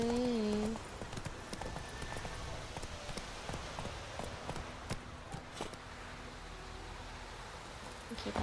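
A horse in The Witcher 3 clip-clops along through rain, hoofbeats steady under a constant patter, with a brief whinny at the very start; a voice talks faintly over parts of it.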